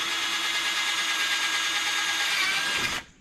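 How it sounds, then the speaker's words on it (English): A power drill drilling through a vehicle fender whirs at steady, high speed for about three seconds, then stops abruptly; close and loud, with no talking. "I'm going to go ahead and drill this one out."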